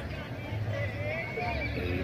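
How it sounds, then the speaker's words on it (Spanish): Horses by a football pitch at the Cañaveralejo river reservoir in Siloé give a drawn-out neigh amid a steady murmur of crowd voices and outdoor background noise. "Los caballos van a meter allá a la cancha."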